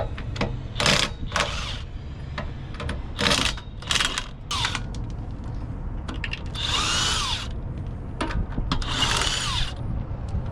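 A Milwaukee power tool, likely an impact driver, used to swap a tire on a conversion camper runs in repeated short bursts of whirring and rattling, loud and close, with outdoor background noise between.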